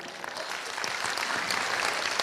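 Audience applause from a crowd at a motivational business talk, steady dense clapping that swells slightly and holds through the whole moment, with no voices over it.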